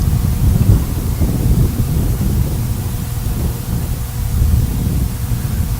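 Wind sweeps across an outdoor field at a boys' high school soccer match between Freeport and Traip, buffeting the microphone in a loud, unbroken low roar that swells and eases without pause.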